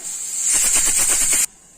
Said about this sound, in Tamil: குக்கர் விசில் வந்துருச்சு. 3 விசில்.